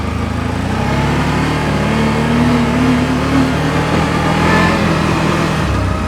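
CFMoto CForce 1000 Touring ATV accelerating in normal mode: a steady, close engine drone rises gradually in pitch, with constant loud rumble and wind noise throughout and no talking.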